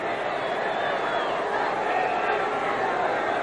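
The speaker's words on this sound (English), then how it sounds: "this crowd is starting to come alive for the first time this afternoon" A large football crowd roars steadily at kickoff of the 1978 CFL East Final, Montreal Alouettes at Ottawa Rough Riders, a dense continuous swell of cheering that fills the whole stretch, with a commentator's voice talking over it.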